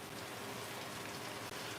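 Rain patters steadily outside, heard from inside a garage as a dense, even hiss of drops on surfaces with one brief dip near the end.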